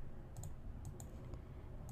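A computer mouse gives a few soft, close clicks, three or four light taps spaced about half a second apart over a faint steady hum, with no one talking.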